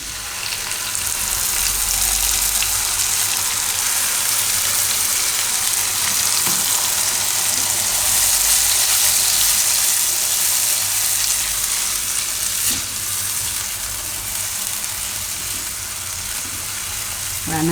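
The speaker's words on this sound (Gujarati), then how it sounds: "તો હવે એમાં આપણે નાખી દઈએ આ ટમેટાની પ્યુરી." Tomato puree frying in hot oil for spicy Maggi, a loud continuous sizzle that stays strong throughout with occasional stirring scrapes, close up and with no speech.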